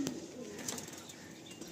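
White Madrasi pigeons coo softly in a loft, a faint low cooing amid light background noise with no voices.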